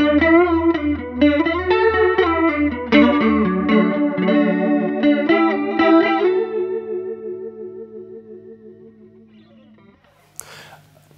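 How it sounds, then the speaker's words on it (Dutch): An electric guitar runs through a Keeley Dark Side pedal set to full flanger, strumming swirling, sweeping chords that ring out and fade over several seconds, followed by a brief noisy burst at the end. "Dat betekent dat je volledig de flanger hebt aangezet."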